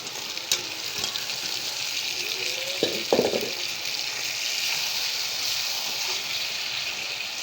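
Fried potatoes and meat go into masala in a pan and sizzle with a constant dense hiss, marked by a few clinks and scrapes of stirring.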